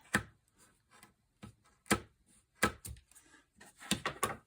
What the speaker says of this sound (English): don't use a pair of good scissors, but let's cut this.